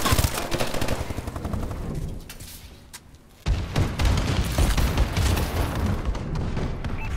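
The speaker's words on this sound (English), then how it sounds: "Enemy bombing run incoming." Dense automatic gunfire and booming explosions from an enemy bombing run in the shooter game Call of Duty: Advanced Warfare, loud and continuous, dipping to a quieter lull before a sudden burst of heavy fire resumes.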